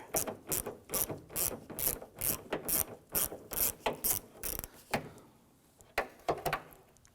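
A ratchet with a 10mm socket loosens rusty bolts on a Ford F-150, clicking rapidly in quick bursts of sharp, close metallic ticks, pausing and then resuming with a few slower clicks at the end.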